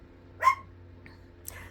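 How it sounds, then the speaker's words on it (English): A dog barks once, somewhat distant and moderately loud, in a quiet room, followed by a fainter second yip. "My dog Soraya Jane is barking in the background."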